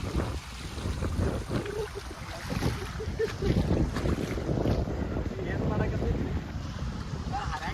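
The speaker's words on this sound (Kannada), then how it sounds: "ನೀರು ಪೂರಾ ಹರಿಯತೈತ್ರಿ" Floodwater rushes and churns continuously nearby around Gokak, mixed with wind buffeting the microphone and a voice speaking faintly now and then.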